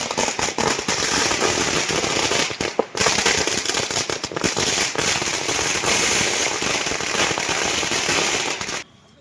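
Firecrackers burst continuously at an outdoor party celebration in Thoothukudi marking the AMMK's eighth founding anniversary, a loud, dense crackling barrage that runs almost nonstop for about nine seconds, with a brief lull partway through, before cutting off.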